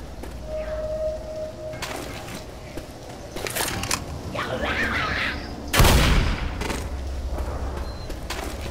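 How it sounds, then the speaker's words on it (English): Propane tanks explode in the zombie shooter Left 4 Dead, a sharp heavy boom punching through scattered gunfire and game noise, with players' voices talking around it. "One big boom's better than two little booms"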